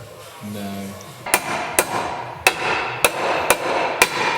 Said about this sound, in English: Do we try and hit him with a hammer?